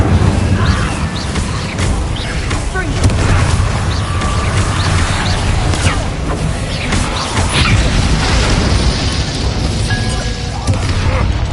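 An Incendio fire spell cast in Hogwarts Legacy during a spell battle: loud, dense rumbling bursts and crackling blasts with heavy low booms, continuous and close, amid battle effects and a voice.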